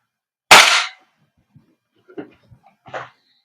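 A single sharp, loud shot from an Umarex Glock 17 Gen 5 MOS airsoft pistol, fired into a chronograph, followed by faint clicks and light handling noises.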